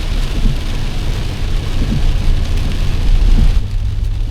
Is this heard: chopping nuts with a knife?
no